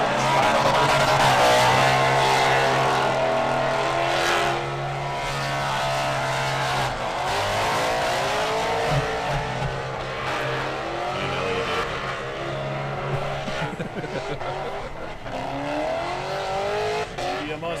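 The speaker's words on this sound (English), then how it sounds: "One of the loudest cars on the grid, that of Elliot Bright." A loud Mustang drift car revving hard at a race track during a Formula Drift competition, engine screaming and wavering through repeated throttle sweeps with tire squeal, close and sustained.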